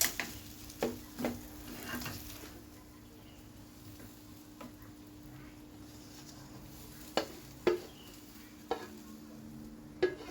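Pad see ew with tofu being stir-fried in a pan, a soft continuous sizzle broken by scattered sharp clicks and scrapes of the utensil against the pan.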